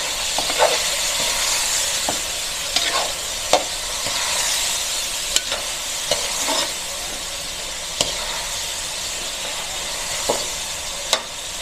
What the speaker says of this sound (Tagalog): Igisa yung ating carrots para lumambot.